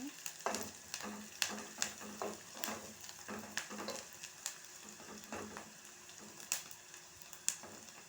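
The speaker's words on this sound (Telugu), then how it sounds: "జీలకర్ర ఆవాలు వేసుకున్న తర్వాత ఇలా కలుపుకోవాలన్నమాట" Cumin and mustard seeds fry in hot oil with a light continuous sizzle, punctuated by sharp irregular pops and scraping stirs of a spoon across the pan.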